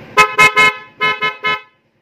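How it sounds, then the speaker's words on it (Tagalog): A Yamaha Mio Sporty motorcycle horn honks six times, in two quick bursts of three short toots, loud and close, then stops. "Sige, busina mo."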